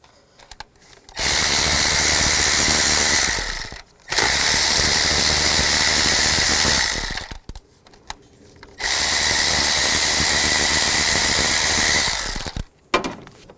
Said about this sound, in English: Take a 10mm socket, take these 3 bolts out.